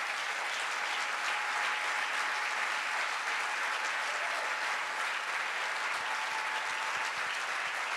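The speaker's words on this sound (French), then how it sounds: "On acclame Dieu" A church congregation applauds in a steady, dense wash of clapping that carries on evenly for several seconds, fairly distant and without voices on top.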